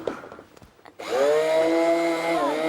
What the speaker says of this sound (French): Qu'est-ce qu'on va faire pour alléger tout ça? On va prendre le mixeur.